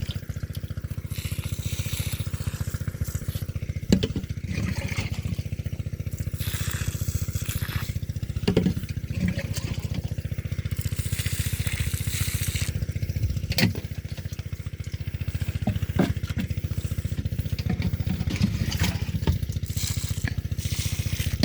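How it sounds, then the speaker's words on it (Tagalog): A motor-driven water pump for watering lemongrass runs continuously nearby, giving a steady loud engine drone with a rough rattling texture and splashing water over it. "pinagana ko muna sa kanila yung motor"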